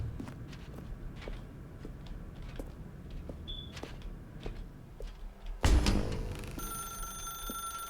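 In The Stanley Parable, footsteps tread along before a telephone starts ringing with sustained electronic bell tones near the end, close and clear, with no talking.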